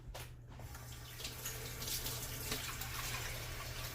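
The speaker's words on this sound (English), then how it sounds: "I'm going to drain them of their juice, and I'm going to rinse them off" Capers rinsed under a running tap, a steady soft stream of water into a sink, close and continuous with no voices.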